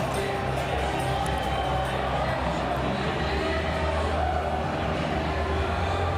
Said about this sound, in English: We just saw a round of applause, cheers go up here at PC Party headquarters, as you could hear it now too